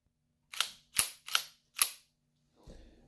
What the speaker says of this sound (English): Now I can rack the slide.